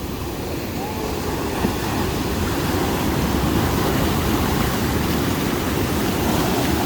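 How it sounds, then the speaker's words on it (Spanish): Large ocean waves on a beach in El Salvador make a continuous loud wash of surf, a steady broadband rushing roar that fills the whole stretch with no pauses. "Son olas muy grandes."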